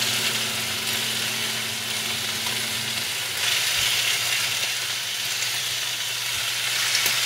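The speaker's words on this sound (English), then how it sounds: "Let the bacon cook for about like a minute on each side and then flip it" Strips of bacon spread across a pan cook with a steady, dense hiss, close and fairly loud, with occasional soft knocks and no talking.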